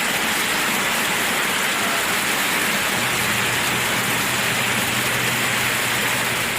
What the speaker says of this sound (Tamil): புதுக்கோட்டை மாவட்டம் கந்தர்வக்கோட்டை, அரிமடம், கொத்தமங்கலம் உள்ளிட்ட பல்வேறு பகுதிகளில் பரவலாக மழை பெய்தது.